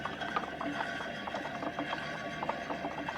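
A used trailer's tire spins with balancing beads tumbling loose inside it, making a steady rattling, ratchet-like clatter with repeated small clicks under a constant mechanical whir.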